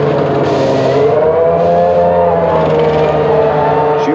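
Formula 1 cars from the 1994 season, among them a Ferrari, roar past at high revs, a loud, continuous engine whine whose pitch shifts as the cars sweep through.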